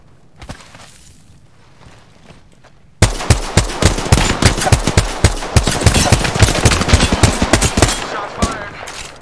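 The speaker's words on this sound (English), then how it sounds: "Shots fired, and they're hitting me." Sustained automatic gunfire in Apex Legends erupts suddenly after quieter footsteps and movement, loud, close and rapid, with a steady stream of shots and impacts continuing to the end.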